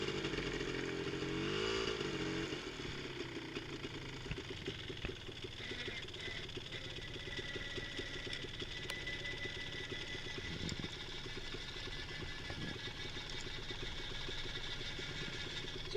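A Polaris Scrambler ATV engine runs steadily nearby on a farm, idling and working near a fence, with a continuous mid-pitched drone and occasional faint clunks throughout.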